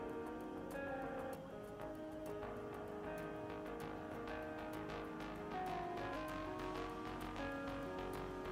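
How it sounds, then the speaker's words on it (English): An electric motor on a variable-frequency drive speeding up, heard as a steady whine of tones that slowly rise in pitch over a constant background hum. "you can gradually turn this knob to increase the motor speed"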